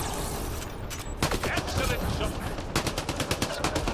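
Gunfire in the sci-fi shooter Mass Effect Andromeda: a run of sharp, repeated shots in quick bursts over a busy game soundscape, fairly loud and close.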